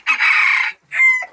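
A rooster crows loudly and close by in a rural home yard, giving one long sustained call followed by a shorter second crow, with no talking.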